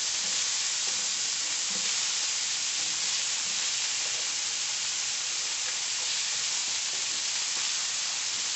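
Prawns sizzle in a very hot pan for paella, a dense, steady frying hiss that holds constant and fairly loud throughout without a break.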